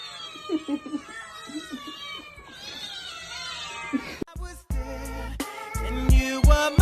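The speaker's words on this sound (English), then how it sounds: "Can all the kitties in the club say" A cat meows and caterwauls repeatedly in drawn-out, wavering cries, close and fairly loud, followed by abrupt louder clipped sounds that resemble music or edited effects.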